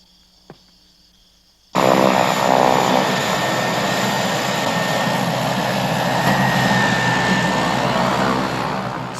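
A propeller airplane engine on an island-hopping flight in remote Indonesia bursts in after a quiet stretch and holds a loud, steady, close droning roar that eases slightly toward the end.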